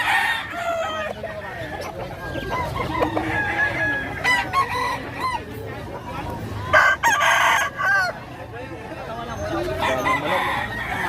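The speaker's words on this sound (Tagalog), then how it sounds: "Daming manok." Many chickens and roosters crow and cluck at a market in Bocaue, Bulacan, overlapping calls from several birds near and far against a busy background, with people talking faintly.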